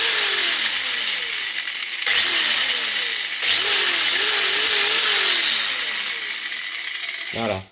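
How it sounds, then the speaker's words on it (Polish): A small angle grinder powered by a ZA-TECH-1200 backup power supply runs loud and close, a steady high whine that wavers up and down in pitch, briefly dips twice, then cuts off abruptly at the end. "Dobra, z takim małą szlifiereczką sobie też daję radę."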